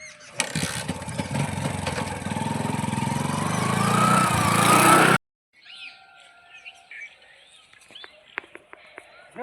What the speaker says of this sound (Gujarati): આવો બાઇક ચાલુ થશે કે નહીં શી ખબર